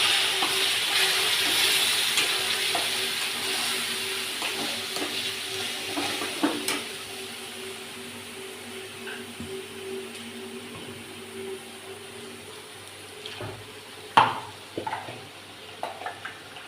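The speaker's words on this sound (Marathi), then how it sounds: "काळं तिखट टाकलं, लाल तिखट टाकलं, थोडी हळद टाकली आणि थोडंसं पाणी टाकून मसाले सगळे एकजीव करू" Chili powder and turmeric masala sizzle in a pan with a splash of water for misal pav, stirred repeatedly with scraping strokes. The steady frying hiss is loud at first and fades gradually, with no talking.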